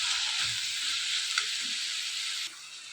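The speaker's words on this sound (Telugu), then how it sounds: "ఈ ఆనియన్స్ వేగిపోయిన తర్వాత కడిగి పక్కన పెట్టుకున్న తోటకూర కూడా వేసుకోవాలి" Onions sizzle in a pan with freshly added amaranth leaves, a dense steady hiss with soft low stirring thumps, and the sizzle drops noticeably quieter near the end.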